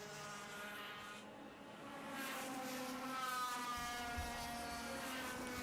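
Racing kart engine with a blown exhaust at a club championship round, a loud droning harmonic whine that rises in intensity midway and holds, with no talk over it.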